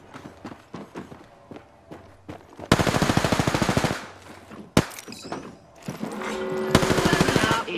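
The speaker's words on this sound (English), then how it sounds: "They're shooting at me." Automatic gunfire crackles in Apex Legends: quick footsteps, then loud rapid bursts of shots close by, with further volleys and a sharp single crack following.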